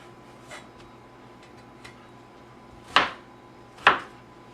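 A knife slices peeled watermelon into chunks on a board: a few faint light cuts, then two sharper, louder chops close together near the end, in a quiet setting.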